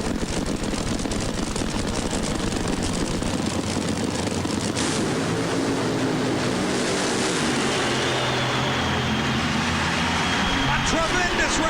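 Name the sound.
drag racing funny cars making a run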